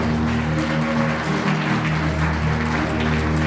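Wedding guests applauding the bride's entrance at a wedding hall, a steady dense wash of clapping from a large crowd, continuous throughout over background music.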